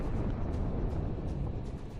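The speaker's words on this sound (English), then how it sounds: "Cluster munitions explode very close." Cluster munitions bursting very close to an armored personnel carrier in combat, a dense, rumbling run of heavy low booms and crackling blasts packed tightly together over two seconds.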